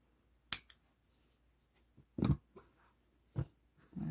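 Scissors snip through crochet yarn while finishing a granny square bag, a few sharp separate cuts spaced across a quiet stretch with no talking.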